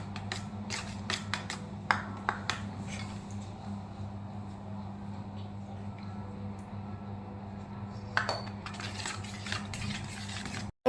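Milk being stirred into a homemade mango ice cream mixture in a bowl, with a series of light scraping and clinking spoon strokes over a steady low hum, busiest at the start and again near the end.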